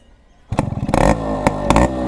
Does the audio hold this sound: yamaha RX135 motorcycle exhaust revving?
yes